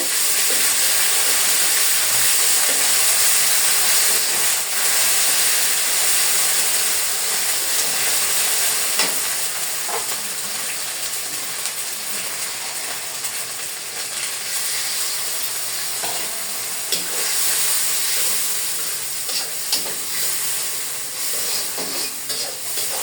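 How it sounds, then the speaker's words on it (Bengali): Onions frying in a pan with ginger-garlic paste just added give a steady, loud, hissing sizzle with faint stirring scrapes, heard close and alone without talk. "এই পর্যায়ে আমি হালকা একটু আদা রসুনটা পেঁয়াজ দিয়ে দিব।"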